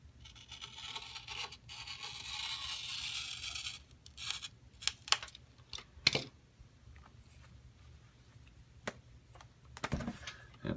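Scissors cut a flexible shifter boot to length for an LS1-swapped 240SX automatic shifter, giving a series of crisp snips and rustles after a soft scraping stretch, with the sounds close and fairly quiet.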